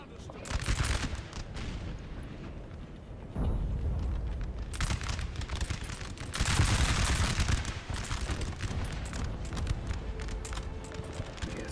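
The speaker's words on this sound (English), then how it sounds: "First rifles under heavy fire" Rifle volleys and massed musket fire from a Napoleon Total War battle, a continuous dense crackle of shots rolling through the whole stretch with louder surges, someone commentating over it.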